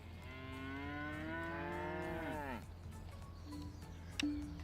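A cow in a farming video game gives a long, loud, drawn-out moo over game ambience, followed by quieter background sounds and a brief sharp blip.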